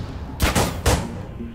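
Gunshots in a shooter video game, a quick burst of three sharp, loud reports within half a second, then fading room tone.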